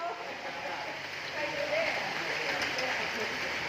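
Steady rain falling outdoors, a continuous broadband hiss at moderate level with no distinct drops standing out.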